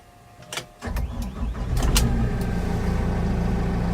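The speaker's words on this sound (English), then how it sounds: "So let's go ahead and fire her up here." A few clicks, then a Multihog MX 120 tractor engine cranks and catches, settling into a steady, loud low rumble at idle.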